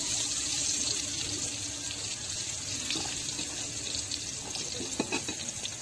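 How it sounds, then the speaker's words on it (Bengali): Pointed gourd (potol) slices fry in a pan, giving a steady, even sizzle that holds for several seconds at moderate loudness, close by and without speech. "পটল ভাজাটা প্রায় হয়ে গেছে।"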